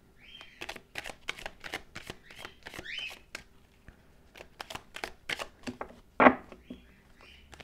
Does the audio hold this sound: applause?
no